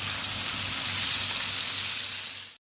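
Chicken sizzles steadily in hot oil in a wok, a dense crackling hiss that stays even throughout before cutting off abruptly.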